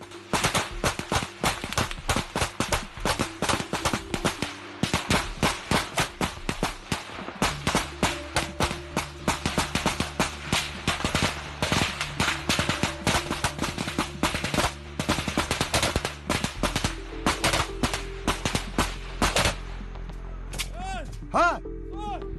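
Sustained exchange of gunfire between Russian and Ukrainian soldiers: rapid automatic bursts and single shots crack loudly and nearly continuously, close by, with shouting voices mixed in.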